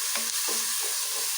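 Paste sizzles steadily in a pan while a spatula makes a few quick, rhythmic stirring scrapes, heard up close with no speech.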